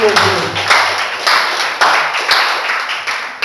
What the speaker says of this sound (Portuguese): Dê mais um aplauso ao Senhor Jesus.